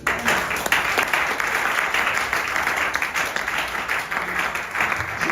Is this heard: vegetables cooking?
no